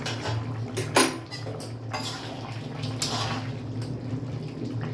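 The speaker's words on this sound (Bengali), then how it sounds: "এবার ঢাকনাটা তুলে দেখে নিই যে আলুগুলো সেদ্ধ হয়েছে কিনা" A pot lid is lifted off simmering jackfruit and potatoes, giving a sharp metallic clank, then a few lighter taps and clinks over a low steady hum.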